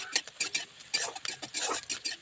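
Rice ingredients being stirred and fried in a pan, quick uneven scraping strokes of a utensil against the pan over a faint sizzle.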